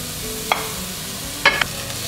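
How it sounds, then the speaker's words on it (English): Onions saute in a heavy pan with a soft, steady sizzle, broken by two or three brief scraping stirs of a utensil against the pan. "saute some onions."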